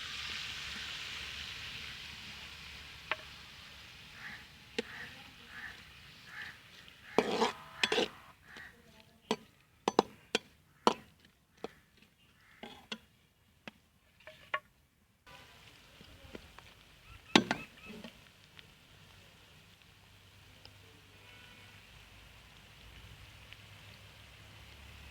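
Chopped onion hitting hot ghee in a pan while cooking aloo palak, a steady hiss that fades, broken by sharp crackling pops and spits bunched in the middle, close and with no talking.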